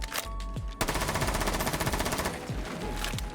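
Automatic gunfire in Rainbow Six Siege shoots open a window: a brief shot, then a sustained rapid burst of about a second and a half with rattling debris and a few scattered shots after, loud and close, with no talking.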